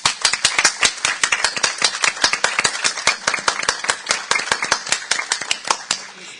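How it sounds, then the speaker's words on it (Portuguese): Attendees at the Myrthes Campos medal presentation clap in crisp, distinct, rapid claps, close and bright, keeping a steady irregular rhythm for several seconds. "para a Amanda, eu peço uma salva de palmas"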